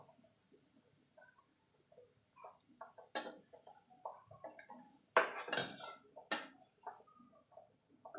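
Utensils clink and scrape sharply against a plate as fried onions are lifted off, a few loud metallic knocks standing out from quieter taps in an otherwise hushed kitchen.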